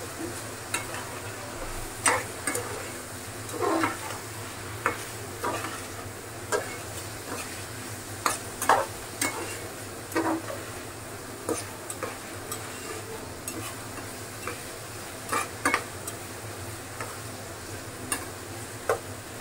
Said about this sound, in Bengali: এখন আলুটাও দিয়ে দিব।